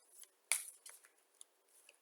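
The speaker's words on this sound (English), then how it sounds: "These are big cards, so I have to shuffle them end on." Large cards are shuffled end on: a quick burst of crisp, papery riffling snaps, one sharp flurry followed by lighter flicks, close and clear with no talking.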